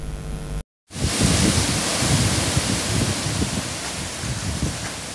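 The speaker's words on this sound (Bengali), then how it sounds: "অবশেষে স্বস্তির বৃষ্টি হলো সারা রাজ্যে, সঙ্গে ছিল কালবৈশাখী দাপট।" Heavy rain pouring steadily during a nor'wester storm, a dense continuous roar starting abruptly after a brief silence and holding loud throughout, with no clear thunder.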